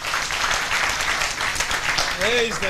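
Audience applause at a Pentecostal church commissioning ceremony in Meru, a short burst of dense clapping with voices mixed in and a brief vocal cry near the end.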